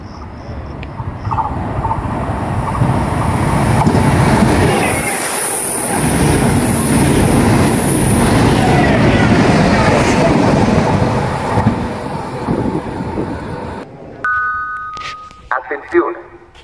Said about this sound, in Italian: Treno in transito al binario 1, allontanarsi dalla linea gialla.